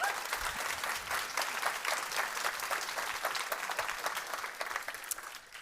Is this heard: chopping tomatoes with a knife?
no